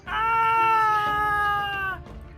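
A cat meows in the Fablecraft video game, one loud, drawn-out, whiny meow lasting about two seconds, close and clear with nothing else over it.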